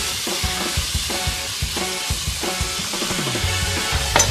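Minced meat sizzles in a hot pan for a Bolognese lasagna, a steady loud frying hiss with repeated scraping and stirring knocks from a utensil throughout.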